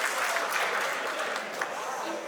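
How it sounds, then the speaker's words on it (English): Wedding reception guests applaud in a steady, moderately loud patter of clapping that runs throughout, with voices mixed in underneath. "A round of applause for her."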